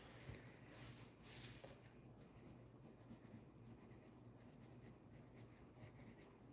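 Holbein colored pencil is pressed hard and burnished onto a paper page, giving a faint, continuous scratchy rubbing close to the listener, with a couple of soft bumps early on and no talking.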